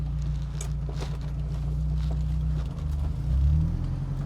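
An older classic car with no power steering and about 170 brake horsepower pulls away and drives on, its low engine rumble steady and close, swelling briefly as it gains speed.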